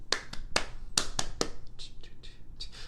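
A music class of strings, percussion, brass and woodwind players echoes back a rhythm with crisp, close hand claps, several quick sharp claps followed by a few softer ones, under no speech.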